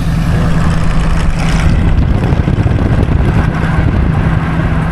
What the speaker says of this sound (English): It's like a old Ford, but it's still running. Open the window, you can hear the sound.